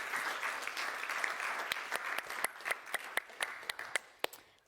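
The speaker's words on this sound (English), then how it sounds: "Let's give them a round of applause as they take their seats." An audience at a university event for an Ashesi University and ETH Zurich mechatronics programme gives a round of applause, a steady patter of many hands with some sharper individual claps, fairly quiet and distant.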